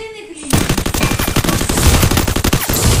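Rapid automatic gunfire in the mobile shooter Garena Free Fire, a dense, loud continuous burst of shots starting abruptly after a brief quiet moment, with no talking.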